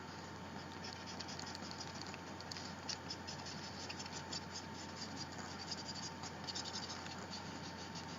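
A pen sketches shadows into an art journal, giving a steady, soft scratching and pattering of the nib on paper that runs close and continuous under a faint background hum.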